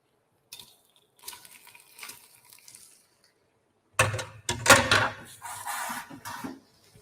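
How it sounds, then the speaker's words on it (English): Garlic and prawn shells go into a heated pan while cooking Singapore laksa: a few quiet clinks, then a sudden loud sizzle that flares in bursts and settles into steady frying. "when the pan is heated up, in goes the garlic and the prawn shells"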